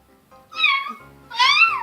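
A person's voice imitating a cat, giving two drawn-out meows, the second louder and longer, during a playful animal-themed morning exercise routine.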